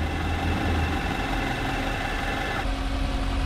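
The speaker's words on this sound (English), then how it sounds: "So I need to keep the engine on." A Nissan Armada engine idles in a steady, even drone, with a slight shift in tone partway through and no voices.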